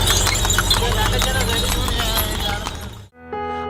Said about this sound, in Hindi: सड़क पर चलता ये घोड़ा तांगा और घोड़े के पैरों की पगध्वनि किसी संगीत से तो कम नहीं